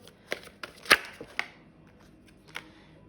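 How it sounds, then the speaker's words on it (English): Tarot cards being shuffled by hand, heard as a few sharp riffling snaps and soft card slaps spaced irregularly over a few seconds, close and fairly quiet with no talking. "Oof, okay, let's shuffle now."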